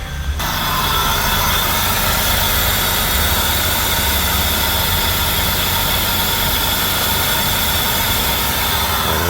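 A 2000 Buick LeSabre engine idles steadily after a fuel pressure regulator replacement, a constant close, loud running drone with a low rumble that holds unchanged for several seconds, with no talking.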